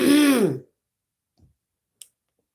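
One short, voiced throat clearing close to the mic, then near silence with a couple of faint small clicks.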